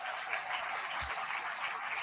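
A large audience applauds steadily and evenly throughout, the clapping dense and sustained at moderate distance with no voices standing out.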